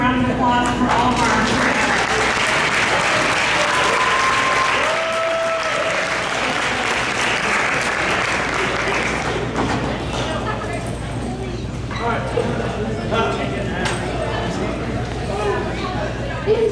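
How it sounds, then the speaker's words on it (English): Sustained, dense applause fills a hall at a high school sports banquet, loud and steady for many seconds with crowd chatter mixed in. "Let's give a round of applause for all of our."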